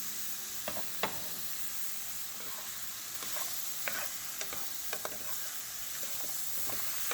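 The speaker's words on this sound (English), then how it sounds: "Sizzle, sizzle." Veggie patty and vegetables sizzling steadily in a frying pan, a constant hiss with scattered crackles and the occasional stir or utensil tap, no talking.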